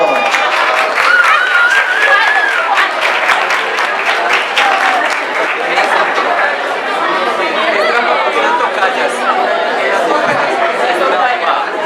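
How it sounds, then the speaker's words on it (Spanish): Classroom audience clapping for a correct answer during a science talk on color, a steady wash of applause mixed with loud chatter and voices throughout. "Muy bien, un aplauso."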